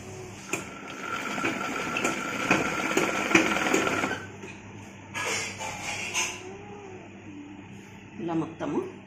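A sewing machine stitches the round seam of a chudidar pant, running in several fast bursts with short pauses in between, while someone talks alongside the work.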